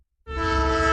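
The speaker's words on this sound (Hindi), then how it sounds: "ट्रेन की सीटी सुनाई दी।" An old steam train's whistle, heard as part of a horror story soundscape, begins after a brief silence and holds as one steady, strong, piercing tone to the end.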